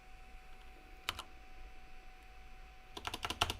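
Someone types code on a computer keyboard nearby. A quick pair of keystrokes is followed by a pause, then a fast burst of clacking keys, with a faint steady hum underneath.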